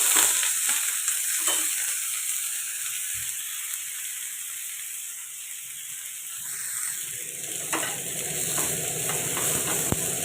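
Onions fry quietly in a pan while a utensil scrapes and stirs through them in short bursts, a soft sizzle running underneath, with no one talking.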